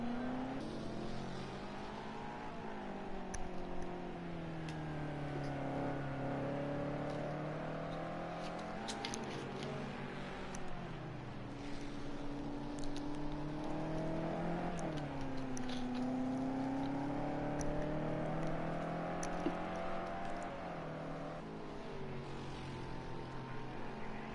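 A GT3 race car on a flying lap of the Nurburgring in a sim racing game, its engine note rising and falling through gear changes, steady and prominent with no talk.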